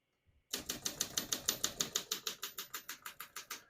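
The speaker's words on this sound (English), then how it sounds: "As you can see, all the keys type nice and none of them skip or stick." A 1960 Olympia SM4 portable manual typewriter clacks out a steady run of about eighteen crisp keystrokes, close and loud, slowing slightly toward the end.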